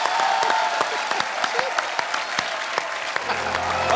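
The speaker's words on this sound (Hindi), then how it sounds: "तालियां" Studio audience applause on a Hindi comedy talk show, loud continuous clapping with distinct individual claps popping out, fading slightly toward the end.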